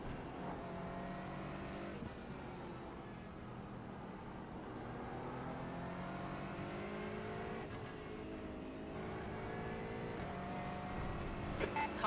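Race car engines drone and rev steadily throughout an iRacing GT4 championship round at Sebring, with cars passing close by in a continuous, loud engine roar and no talking.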